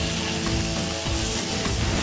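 A herb-crusted fish fillet, seasoned with salt and pepper, sears in olive oil in a hot pan, a loud, constant broadband sizzle with no pauses or voices.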